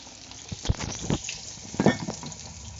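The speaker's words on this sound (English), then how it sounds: "Sizzle, sizzle, sizzle," Rissoles fry in a pan with steamed potatoes nearby, giving bursts of sizzling and crackling with a few louder pops and stirring clatters, close and moderately loud, with no talk over it.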